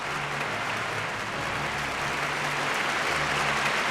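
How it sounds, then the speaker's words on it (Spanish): Thunderous applause filling a theatre, a dense, continuous roar of many hands clapping at once, steady and loud throughout with no voices standing out. "estruendosos aplausos"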